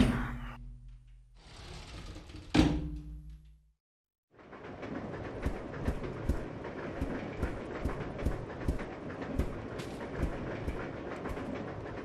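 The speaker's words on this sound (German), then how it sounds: "Jetzt sitzen wir im Zug nach nirgendwo." Train ride in Resident Evil Zero HD Remaster: after a few short tones and a brief silence, a steady rolling rumble sets in with regular clickety-clack wheel beats repeating close by.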